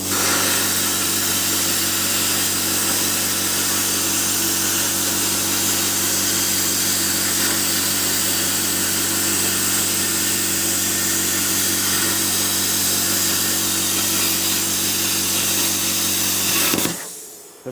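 An Xtreme Plasma Cut 40 plasma cutter piercing 2mm plate gives a loud, steady hiss and hum with strong low tonal bands, holding for about seventeen seconds before cutting off abruptly.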